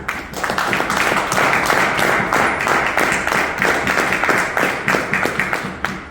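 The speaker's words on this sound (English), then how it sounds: "let's begin with a thunderous round of applause for yourself" A room full of attendees at an education session claps loudly and energetically, with close, crisp individual hand claps in a brisk, continuous rhythm for about six seconds.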